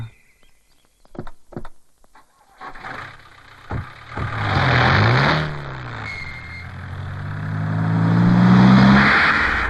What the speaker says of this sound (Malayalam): പോണം ബാബു, വണ്ടി ഇടാ.